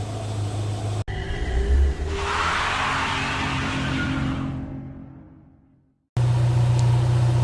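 A Toyota MR2 SW20 with a 3SGE engine, freshly repaired of a misfire, revs up sharply from idle, holds a strong steady roar, then falls away quickly before idling again.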